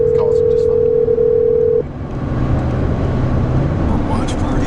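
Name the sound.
phone call dialing through Siri in a car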